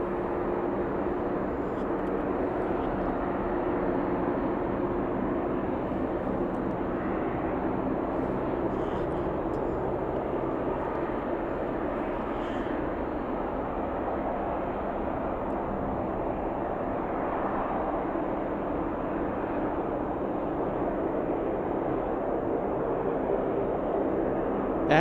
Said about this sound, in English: The one more plane about to leave.